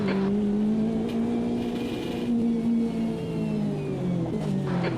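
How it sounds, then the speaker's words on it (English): A race car in the Automobilista 2 racing game approaches and passes, its engine a sustained tonal drone that rises and falls in pitch through gear changes, with no voices. "There's a car approaching."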